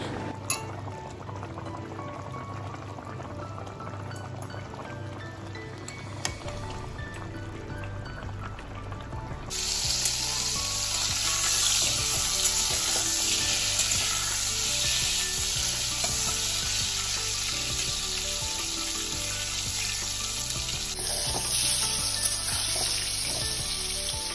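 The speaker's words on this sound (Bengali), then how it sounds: "তো এখানে মাছের ঝোল আমার প্রায় হয়ে এসছে। ঝিঙে আর আলু দিয়েই করেছি আজকে ঝোলটা" Fish curry with ridge gourd and potato, thin and with green chillies, cooks on a stove; a steady simmer and sizzle, brighter and louder after the first third, with occasional stirring and no talk.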